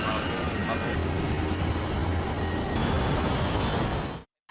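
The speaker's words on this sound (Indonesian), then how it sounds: "mesin pesawat mulai dinyalakan" Loud, steady roar of airliner engines starting up before takeoff, a dense broadband rumble that holds constant before cutting off abruptly at the end.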